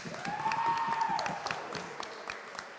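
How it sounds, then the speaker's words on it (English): Light, scattered applause and a few cheers from a small audience at an infosec panel, with a whooping voice rising above the clapping before it thins out into sparse claps. "Big final round of applause to all of our panelists."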